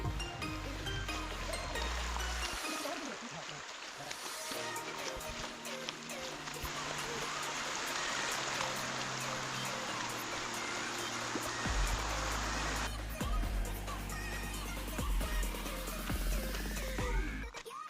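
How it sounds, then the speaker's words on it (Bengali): Water rushes steadily at Sangam waterfall, a loud, continuous broadband roar of falling water and a flowing stream heard close by, with people talking intermittently over it. "আমরা এখন সংযম ঝর্ণার কাছাকাছি।"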